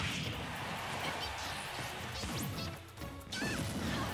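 A forward smash attack landing in Super Smash Bros during an online tournament match, a sharp crashing hit amid busy game effects and a brief whoosh.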